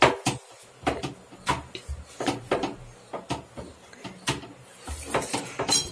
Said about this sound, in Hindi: फिर चौकी पे रखो और बिलना से cut cut cut cut bell दो।